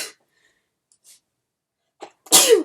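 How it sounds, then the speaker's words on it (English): A single loud sneeze bursts out near the end, preceded by a few faint sharp inhales and sniffs in an otherwise quiet room. "I really hope I don't have to sneeze right now"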